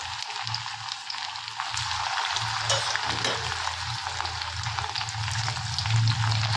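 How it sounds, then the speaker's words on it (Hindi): Raw banana pieces deep fry in oil in a kadhai with a dense, steady crackling sizzle like light rain. It stays close and continuous, with a few low bubbling pops and no talk. "चलिए हम लोग दूसरा सेट भी अपना जो है फ्राई कर लेते हैं"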